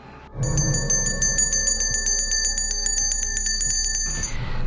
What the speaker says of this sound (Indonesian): tiba-tiba Rini mendengar suara lonceng dari ibunya.